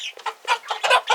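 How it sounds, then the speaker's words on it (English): Hens squabbling and clucking on a homestead, a quick burst of sharp, agitated clucks and squawks packed into about a second, close and fairly loud. "I think that's a hen fighting with hers."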